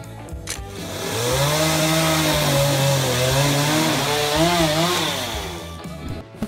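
Chainsaw cutting into a block of cedar of Lebanon wood for sculpture carving, a close, loud, sustained engine whine that rises and wavers in pitch as it bites, then tapers off.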